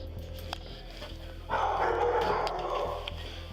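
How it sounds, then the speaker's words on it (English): Several dogs inside a kennel bark suddenly in the early morning, captured on security footage; a muffled, rough burst of barking rises midway over a steady low hum and continues for about a second and a half before easing off. "the dogs inside the kennel suddenly began barking"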